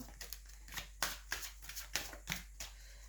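Oracle fairy cards shuffled by hand for a three-card reading, a quick run of crisp papery riffles and slaps in an irregular rhythm, close and fairly quiet, with no talking.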